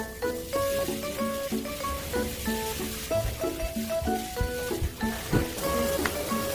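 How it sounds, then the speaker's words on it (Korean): A pot of samgyetang with onions boils on the stove, giving a constant close bubbling and sizzling hiss with melodic background music playing throughout. "1시간 정도 끓이고 있어요"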